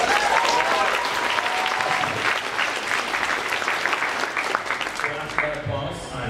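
Big-hall applause at a San Diego Comic-Con 2017 panel for Netflix's Castlevania, dense and steady throughout, fading slightly at the end, with a voice speaking over it near the start.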